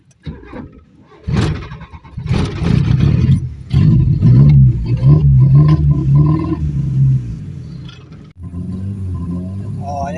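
A carburetor car engine is started without pumping first, with a sharp crank followed by a rising, steady rumbling idle that stays up close and loud, as someone talks over it.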